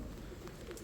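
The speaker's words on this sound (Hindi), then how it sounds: "एक कबूतर को ढूंढता हूँ। वे देखें ये बैठा हुआ है।" A soft, low pigeon coo, brief and faint, over a steady background hiss.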